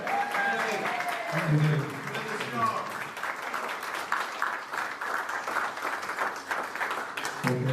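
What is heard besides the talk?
round of applause at forum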